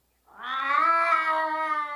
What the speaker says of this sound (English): that sad cat sound in the background is just so funny